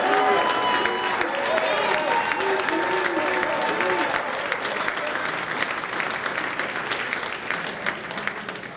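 A crowd at a Nashua high school athletics hall of fame ceremony applauds and cheers loudly for a coach, steady clapping holding for several seconds before slowly thinning out.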